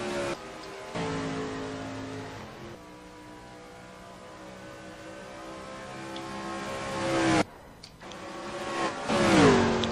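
Race cars lapping Charlotte during a practice session in the Insomniac Racing Tour, engines whining and rising in pitch through gear changes, with a car passing close near the end.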